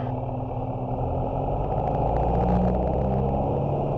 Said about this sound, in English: let's do just a rolling takeoff